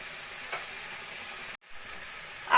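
Spices with onion, salt, turmeric, cumin and chili powder sizzle in a pan for a Bengali cauliflower curry, a steady close frying hiss broken by a brief stir and a momentary cut near the middle.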